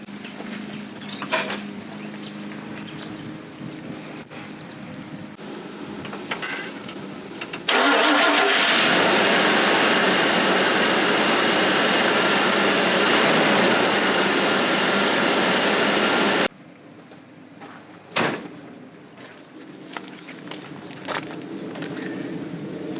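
A farm truck engine starts and runs loud and steady for about nine seconds, then cuts off abruptly. Quieter mechanical clicks and a thump follow, with faint background hum before and after.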